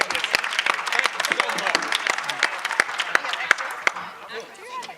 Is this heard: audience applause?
yes